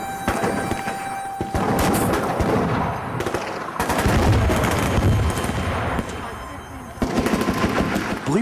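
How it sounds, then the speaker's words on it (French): .50 caliber rifle firing, loud sharp gunshot blasts repeating at intervals outdoors, with other gunfire and a voice talking in the background. "essaye un fusil de calibre 50 assez puissant pour arrêter un véhicule blindé"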